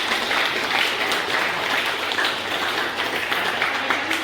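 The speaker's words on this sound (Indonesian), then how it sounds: "Boleh kasih tepuk tangan buat kita semua." An audience at a talk on self-compassion applauds, a steady wash of clapping of moderate loudness that lasts throughout with no speech over it.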